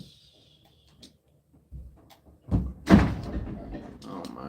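A door closes with a solid wooden thunk inside a Minecraft game, followed by louder clattering and thumping, with a voice faintly present in the mix.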